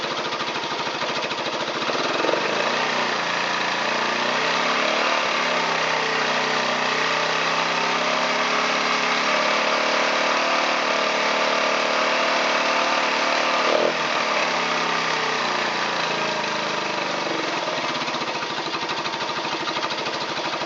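A Honda SL 125 motorcycle engine runs steadily at close range with a few revs, its mid-pitched mechanical drone holding a fairly even level with slight rises in speed throughout.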